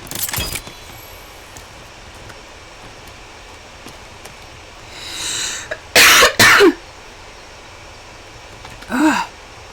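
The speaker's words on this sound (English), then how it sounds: "The cough is persistent." A person with a persistent cough lets out a few scattered, close coughs and throat noises outdoors in a forest, with a pair of sharp loud bursts in the middle and a softer one near the end amid quiet.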